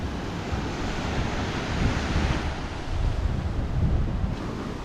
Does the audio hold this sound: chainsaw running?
no